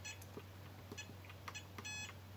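A FlySky FS-ST8 10-channel RC transmitter gives short electronic beeps as its trim is adjusted to center, with a longer beep near the end. The beeps are faint and close over a low steady hum.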